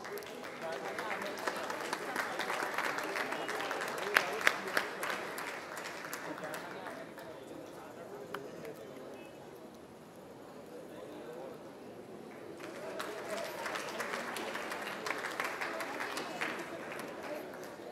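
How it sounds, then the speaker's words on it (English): Crowd applause at a Global Peace Initiative 2016 event, sustained clapping that swells, dips midway, then rises again, with voices and hall noise mixed in. "a huge round of applause"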